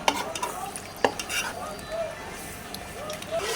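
Meat sautés in a pan with a soft sizzle as a utensil stirs it in irregular scrapes and clacks, with one sharp knock. Someone talks quietly through it.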